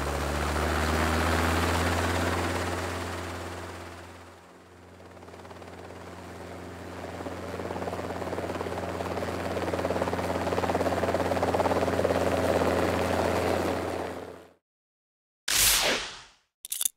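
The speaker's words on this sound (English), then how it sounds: "Helicopter." A helicopter's heavy rotor and engine roar holds loud and steady for about fourteen seconds, dipping briefly partway through, then cuts off abruptly, followed by a couple of short sharp cracks.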